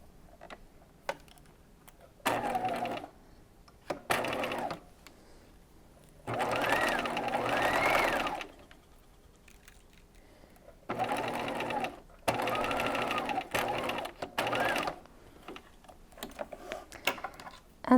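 A sewing machine stitching a peignoir sleeve in place, running in several bursts of steady, rapid whirring, some long and some short, separated by quiet pauses.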